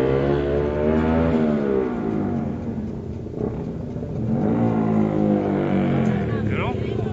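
Large motorcycle engines rev loudly in traffic, their pitch climbing and falling in strong, rising and sinking sweeps close by. A voice can be heard faintly under the engine noise.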